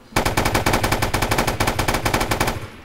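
Rapid automatic fire from a silenced Mac 10 submachine gun in a Grand Theft Auto IV mod, a dense unbroken burst of close, loud shots lasting nearly three seconds.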